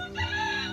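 A rooster's crow sounds from a storybook display at a fairy park in Anakie near Melbourne, a short, loud, close call that lasts under a second.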